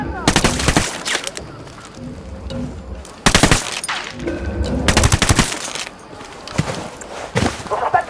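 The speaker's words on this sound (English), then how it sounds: "I'm opening fire." Gunfire in the tactical shooter Ghost Recon Wildlands: several loud bursts of automatic weapon fire, sharp and close, with pauses between them and some in-game voices.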